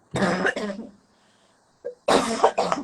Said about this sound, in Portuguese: estou tossindo um pouquinho bastante.